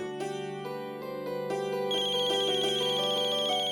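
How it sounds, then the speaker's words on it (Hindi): A mobile phone rings in a home with a bright electronic ringtone, a repeating melodic pattern that plays clearly and alone, with no voices over it. "अक्षरा का फोन है।"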